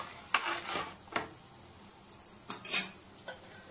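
A utensil stirs khichuri in a cooking pot with a few soft, scattered clinks and scrapes, quiet and close, with no voices.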